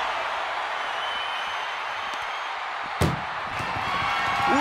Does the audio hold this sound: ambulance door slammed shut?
yes